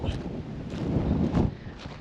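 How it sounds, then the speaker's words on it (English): Strong, freezing wind outdoors in Scotland buffets the microphone in heavy, rumbling gusts, swelling and easing over a couple of seconds. "Don't know if you can hear how windy that is."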